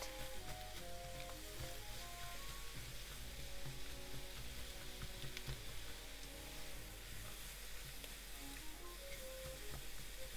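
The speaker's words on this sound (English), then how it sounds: "add the vegetables. And keep cooking until the vegetables are wilted." Vegetables for shrimp yakisoba noodles stir-fried in a hot pan, giving a steady, close sizzle with occasional scraping stirs under light background music, with no talking.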